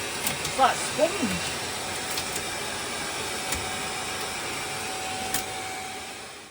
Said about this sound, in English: Rachel's vacuuming away the boat.